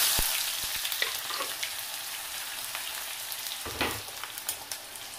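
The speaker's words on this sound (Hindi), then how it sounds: "तो हमारा शुगर जो है कैरामलाइज्ड हो गया है, तो इसमें हम क्या डालेंगे अभी? पहले अभी पहले ऑनियन डालेंगे। ऑनियन डाल दो।" Onions hitting a pan of caramelized sugar while cooking chicken at home, giving a steady broadband sizzle with a few sharp crackles and pops near and alone, no talking.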